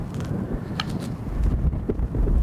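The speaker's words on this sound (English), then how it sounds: "Wind's blowing the ball back right a bit" Gusting wind buffets the microphone on an open golf course, a steady low rumble that swells louder toward the end, with a faint brief click partway through.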